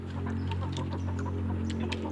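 Chickens clucking in a rural yard, a cluster of short, close, repeated clucks over a steady low hum, loud and continuous with no voices.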